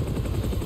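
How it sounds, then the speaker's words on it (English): Helicopter outside in the video game Spider-Man 2, a low steady rotor drone with rapid pulsing thumps, continuous and fairly close, with no talking. "I know these police officers hear this helicopter outside."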